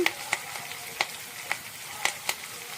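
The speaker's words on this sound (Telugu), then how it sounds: "ఇప్పుడు కరివేపాకు వేద్దాం. కరివేపాకు చిట్పట్టమంటుంది కదా." Curry leaves crackle in hot oil, with about six sharp pops spaced roughly half a second apart over a soft, steady sizzle, close and fairly quiet.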